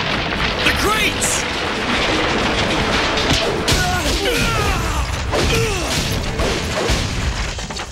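Crashing impacts of wooden crates tumbling down in a Street Fighter animated series scene, loud, busy clatter and thuds across the whole stretch, mixed with shouting voices and action music.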